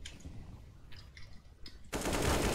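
Gunfire in a CS:GO match on Inferno: a few faint, scattered shots are followed by a sudden loud, sustained burst near the end.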